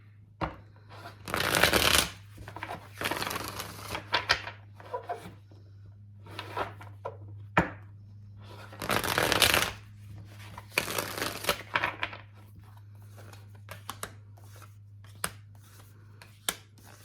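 Tarot cards shuffled by hand during a Pisces love reading, with several crisp riffling bursts and softer sliding, tapping handling sounds between them, close and clear with no talking.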